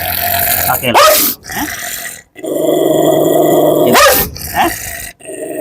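An older dog, around eight or nine years old, growls and barks close by in a loud, continuous stretch, with two sharp bursts standing out above the steady rumbling.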